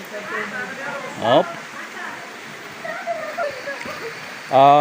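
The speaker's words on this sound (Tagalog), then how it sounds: "Napakalakas po ng tubig." Strong rushing water flows at a spring resort swimming pool in Upland, a steady broadband wash with brief splashy bursts and a voice speaking intermittently over it.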